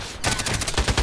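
An M4A1 rifle fires in Contract Wars: a loud, close burst of rapid automatic shots in quick rhythm lasting about a second.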